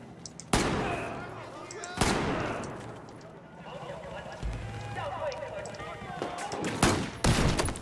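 Gunshots ring out in the shooter Battlefield 4: several sharp, loud cracks come a second or more apart, the last two close together, over busy battle ambience while someone talks.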